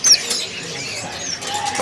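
A songbird at the Pramuka bird market in Jakarta, among the stalls where magpie-robins are sold, gives a brief high chirp at the start, followed by faint scattered calls over quiet market background.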